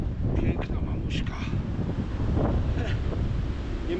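Strong winter wind buffets the microphone beside a small river during pike fishing, a constant low rumbling roar with gusty swells, while someone speaks intermittently over it.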